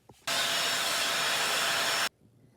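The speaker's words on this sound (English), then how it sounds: "Gonna vacuum all this steel wool filing off" A vacuum cleaner sucks up steel wool filings from guitar frets, a loud steady broadband roar that starts abruptly, runs for about two seconds, then cuts off.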